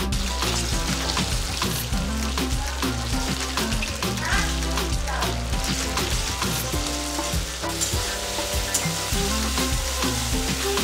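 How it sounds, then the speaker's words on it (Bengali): Chicken pieces fry in hot oil in a wok, a loud, continuous close sizzle with stirring scrapes over a steady low background hum. "কড়াইতে তেল গরম করে ভেজে নিলাম মাংসের টুকরোগুলো"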